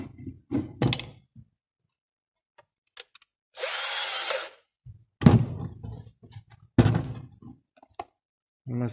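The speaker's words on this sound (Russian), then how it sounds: "мы сверлим одно отверстие для инфракрасного излучателя" A power drill whirs in one burst of about a second and a half, drilling a hole in a mechanical vending machine, surrounded by knocks, clunks and brief bits of speech.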